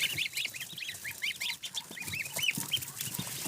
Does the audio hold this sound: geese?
yes